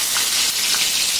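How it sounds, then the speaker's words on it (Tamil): Finely chopped garlic fries in a few spoons of hot oil in a large kadai, giving a close, steady, dense sizzle with no pauses and no voices. "ஒரு பெரிய கடாயில ஒரு 3-4 ஸ்பூன் எண்ணெயை சூடாக்கிட்டு ஸோ அதுல பொடி பொடியா நறுக்கின பூண்டு"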